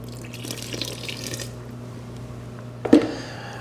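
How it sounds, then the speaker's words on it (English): Water runs into a bowl of bread dough ingredients for a Francese loaf, a steady splashing stream for about a second and a half, then quiet, with a short wet clunk near the end. "Now we'll put the rest of the water."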